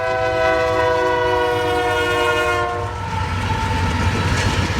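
An eastbound freight train barrels through the Highway K crossing in a small Missouri railroad hamlet. Its horn blares loud and sustained, then gives way to the rumble and rhythmic clatter of the passing cars.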